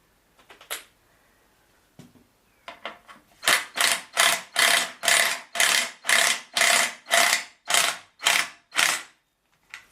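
A ratchet wrench snugging up a bolt while installing the electric motor in a BMW E36 EV conversion, a few scattered clicks followed by a steady run of about a dozen loud, evenly spaced ratcheting strokes, close up and alone.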